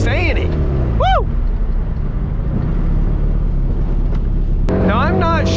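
A 400 HP built turbo Mazda Miata drives along with a loud, steady engine drone throughout, short rising whistle chirps from the turbo blow-off valve near the start and again at the end, and a voice briefly over the engine.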